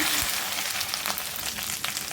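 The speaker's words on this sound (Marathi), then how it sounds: "तेल तापलं आहे त्याच्यामध्ये आता मी भेंडी टाकते" Okra tossed into hot oil in a kadhai for a dhaba-style okra masala, giving a steady, close, even frying sizzle with no voices.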